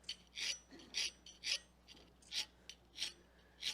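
Hand file rasping across a workpiece in a workshop, about eight separate strokes in a steady back-and-forth rhythm, close and fairly quiet, no voices.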